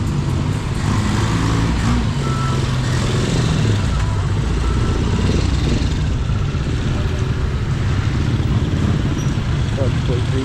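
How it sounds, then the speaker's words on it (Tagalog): Heavy street traffic outside the Bongao public market in Tawi-Tawi: a constant, dense rumble of car and motorcycle engines close by, with people talking throughout. "Sobrang traffic dito guys."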